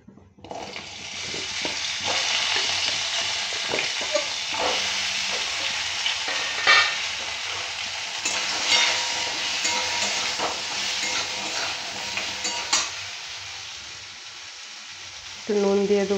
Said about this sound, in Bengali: এবারে ঢ্যাঁড়সগুলো ভেজে নেব।